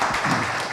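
Audience applause for a fire chief at a city manager's community coffee meeting, a steady wash of many hands clapping together, fairly even and moderately loud throughout the short burst.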